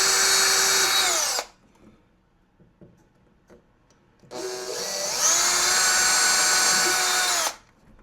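Small-bit power drill boring into a pinball cabinet, two loud close bursts of whining motor that spins up and runs down, separated by a quiet gap of faint handling.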